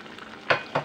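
Tomato chutney bubbles and fries in a pan with a soft sizzle, broken by two quick, close scraping stirs.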